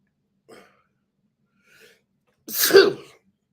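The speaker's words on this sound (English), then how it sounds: "Oh, I gotta sneeze." A single loud sneeze bursts out after a couple of faint breaths, close and otherwise quiet.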